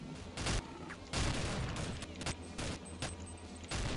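Gunfire in the video game Counter-Strike 1.6, in Nemesis zombie mode, with rapid bursts of shots and short broadband cracks repeating irregularly at a moderate distance, and no talking.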